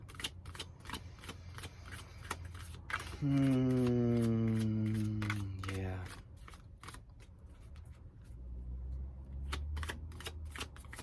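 A deck of oracle cards is shuffled repeatedly in quick, crisp riffling bursts close by, while a person talks and hums over it, with a steady low background drone.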